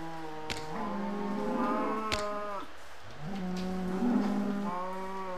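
Several video game cows moo in long, low overlapping calls, one after another, with a couple of sharp clicks between them.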